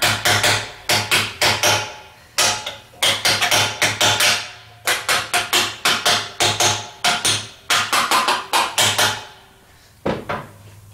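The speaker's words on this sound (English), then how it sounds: "you can actually get away by tapping it with a hammer" Rapid bursts of sharp metallic hammer taps on a Dodge Ram 1500 transmission component during a rebuild, struck in quick clusters with brief pauses between, loud and close, ending with a couple of final blows.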